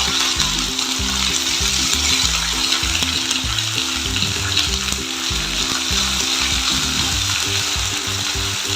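Ginger paste and tomato fry loudly in oil with cardamom, cinnamon and cloves, a dense continuous sizzle with a rhythmic low scraping of a spoon stirring throughout, close and steady.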